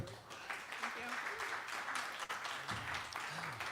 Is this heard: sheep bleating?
no